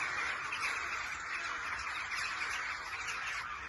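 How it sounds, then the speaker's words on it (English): A dense, continuous chorus of thousands of birds calling at once ahead of Storm Ashley, steady and fairly loud with no voices over it. "I think the birds might know there's something coming."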